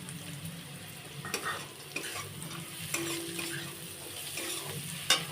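Peanuts, cashews and raisins fry in a pan for semolina halwa, a soft ongoing sizzle broken by scattered stirring scrapes and light clinks of the utensil against the pan.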